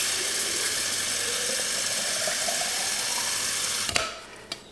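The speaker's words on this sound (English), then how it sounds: "And we'll just fill up our water jar here." Water runs steadily from a tap into a mason jar meant for a chick waterer, a constant hiss that stops near the end and is followed by a couple of light clicks.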